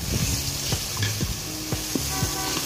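Tomatoes are crushed and stirred in a sizzling pot for sinigang with salmon head; a close frying hiss runs throughout, broken by repeated short scrapes and knocks of the utensil against the pot.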